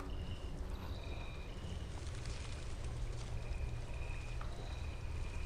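Steady water flow trickling and pouring through a foggy dungeon in The Elder Scrolls V: Skyrim's Yngol Barrow, a continuous moderately loud wash with a low rumble and faint ambient tones, no voices.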